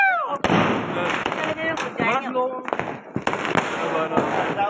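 Diwali fireworks shots bang off one after another in quick, uneven bursts, loud and close, with crackling between blasts and people talking and calling out throughout.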